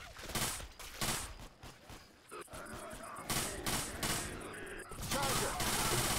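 Repeated gunshots crack in quick, uneven bursts during a Left 4 Dead 2 match, loud and close, with short pauses between volleys and a voice speaking under the firing.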